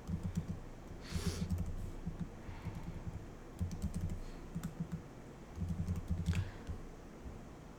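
Keys clatter steadily as an SQL query is typed on a computer keyboard, in several bursts of quick, close clicking with short pauses between them and a soft fan hum underneath.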